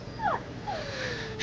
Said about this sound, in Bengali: কুকুরটা একটানা কেমন কেঁদে চলেছে।